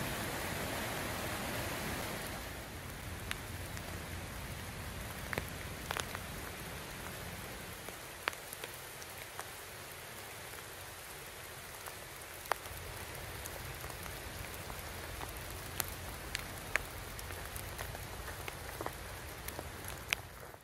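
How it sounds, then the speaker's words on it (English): Creek water flowing steadily beside a road, a soft continuous wash with scattered small splashes and drips, moderately near and calm, no voices. "This is a creek."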